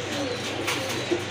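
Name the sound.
pigeons cooing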